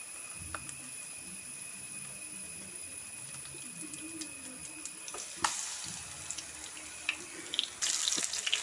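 Battered pineapple slices frying in coconut oil give a steady, quiet sizzle and crackle, with a sharp clatter midway and a louder, fuller burst of sizzling near the end, and no voices.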